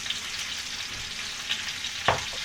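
Olive oil sizzling and crackling steadily in a cooking pot as a beef bourguignon is started, a continuous close hiss with a few sharper pops and a brief scrape near the end, no voices.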